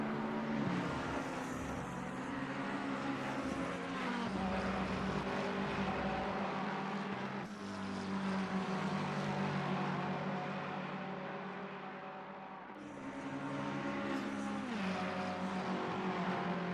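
Race cars including a Lexus and Ferraris running in a close train on track in Assetto Corsa Competizione, a steady droning engine roar with shifting pitch as cars pass and change gear, continuous and fairly loud.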